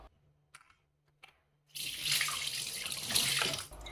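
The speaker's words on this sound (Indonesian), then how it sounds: "kita kasih air lagi" Tap water runs onto diced beef in a bowl in the sink, a steady close splashing gush that starts after a couple of small clicks and continues to the end.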